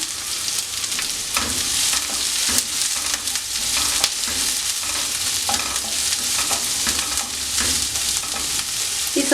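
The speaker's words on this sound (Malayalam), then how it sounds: "ഒരു വലിയ സവോള ഇതേപോലെ കട്ട് ചെയ്തെടുത്തിട്ടുണ്ട് അതിനകത്ത് ചേർത്ത് നന്നായിട്ടൊന്ന് വഴറ്റിയെടുക്കാം" A large cut onion sautéing in a pan, dense continuous sizzle with frequent stirring scrapes, close and loud throughout.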